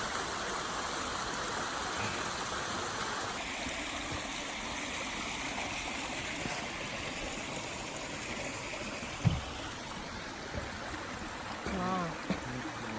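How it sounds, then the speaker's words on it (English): A small creek in a city-centre patch of wild nature flows in a steady, broad rush close by, with a brief thump partway through and a voice speaking faintly near the end. "Little Creek."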